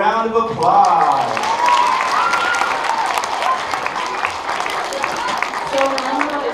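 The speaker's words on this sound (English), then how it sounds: "All right, everyone give Coral a round of applause." An elementary school assembly audience claps and cheers, a loud, continuous wash of applause from a large crowd with a raised voice riding over it early on and more talk emerging near the end.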